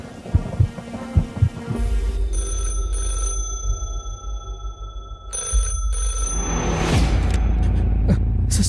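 A telephone rings with steady, tonal electronic bursts, pausing briefly between rings, over a low rumbling background.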